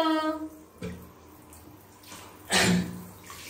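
Water from a tap splashes in bursts while a husky puppy is bathed, with a short gush near the start and a louder splash later, between quieter dripping stretches.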